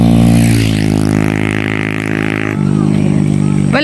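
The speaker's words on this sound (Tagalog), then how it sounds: "Medyo maingay motor." A loud, noisy motorcycle engine idles and revs close by, a steady harmonic drone that shifts pitch midway, with brief speech over it.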